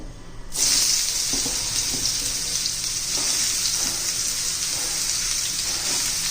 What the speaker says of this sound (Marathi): आता यात आपण दोडका घालून घेऊ